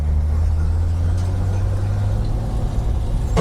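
An old car drives for the first time since 1991, its engine giving a steady, close, low rumble throughout with no talking.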